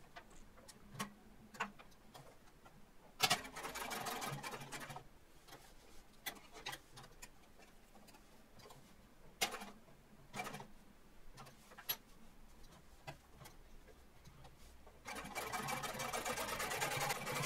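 A sewing machine double top stitches the outside edge of a jeans coin pocket in short bursts, its quick rhythmic chatter starting and stopping repeatedly, loudest near the start and end, with quiet handling gaps between runs.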